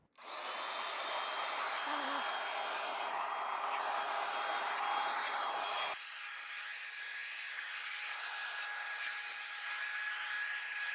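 A blower roars steadily and close while clearing grass clippings from under a John Deere mower deck, a continuous airy whine that shifts tone partway through as the nozzle moves.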